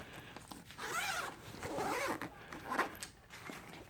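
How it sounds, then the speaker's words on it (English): Zippers pulled shut on an ORCA OR-48 audio bag, a few rasping strokes of close, moderately loud zipping with brief pauses between pulls and no talk. "then we can just put these two zippers"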